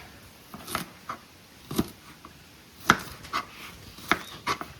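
Knife chopping onions at home in an outdoor yard while preparing chicken chili, a handful of sharp, separate cuts spaced irregularly against a quiet background.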